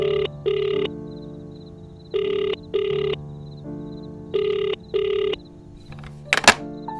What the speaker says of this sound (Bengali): আমি কল করতেই দেখলাম রিং বাজছে